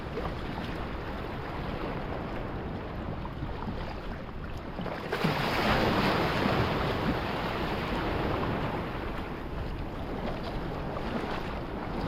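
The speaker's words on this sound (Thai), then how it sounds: "น้ำไม่ลึกหรอกแต่คลื่นใหญ่" Big waves wash around a fishing kayak in shallow water near shore during the monsoon season, a continuous loud rush of surf and wind with one heavier swell surging through midway, with no talk.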